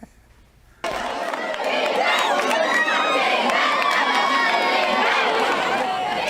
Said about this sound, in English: Oh, good crowd out there at the beach for some Senator football